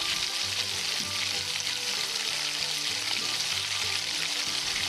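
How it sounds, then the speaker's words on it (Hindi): Bitter gourds stuffed with minced meat fry steadily over low heat, a continuous soft sizzle of hot oil with faint crackles, close and even throughout, with no voices. "दूसरी तरफ हम करेलों को फ्राई कर लेते हैं।"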